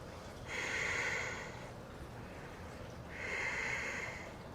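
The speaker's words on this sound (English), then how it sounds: "And inhale." Two slow, deep breaths during a relaxing yoga session, each a soft airy inhale swelling and fading over about a second, close and alone without talk.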